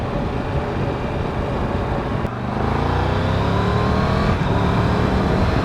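Triumph Tiger 1200 GT Explorer motorcycle engine running steadily and close, then revving up with rising pitch after a brief break, the drone loud and continuous throughout.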